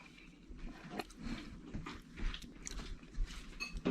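Cooked potatoes are bitten and chewed close to the mic, with soft wet crunching and mouth sounds in an uneven rhythm and no speech.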